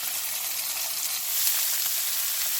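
Chicken thighs frying in a stainless steel pan make a steady, close hiss and crackle of sizzling fat that swells slightly midway, with no talking.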